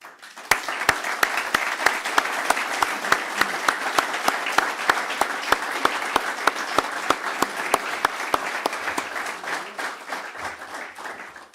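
Graduation ceremony audience applauding steadily for about eleven seconds, a dense wash of clapping with sharp, evenly spaced louder claps cutting through, fading slightly at the end.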